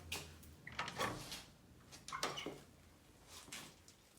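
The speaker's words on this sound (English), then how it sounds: "Open the door if you want." An indoor door is opened, heard faintly as a few soft clunks and a brief creak or slide spread over several seconds against quiet room noise, with no talking.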